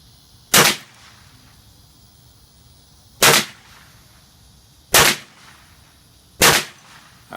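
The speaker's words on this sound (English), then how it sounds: "shooting at this little spinner at about 25 yards out" Four sharp, loud reports from a Kel-Tec CMR30 in .22 WMR fired at a small steel spinner target about 25 yards away, spaced a second or two apart, with quiet outdoor background between shots.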